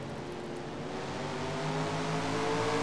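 NASCAR stock cars in a Daytona race video game roar steadily as they accelerate away at a restart, a dense continuous engine drone that builds slightly in loudness, with no voices.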